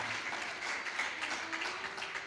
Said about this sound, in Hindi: आपको तो मेरे लिए ताली बजानी चाहिए